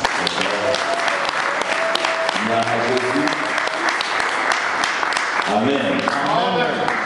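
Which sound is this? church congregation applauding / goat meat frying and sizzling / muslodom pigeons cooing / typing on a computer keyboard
church congregation applauding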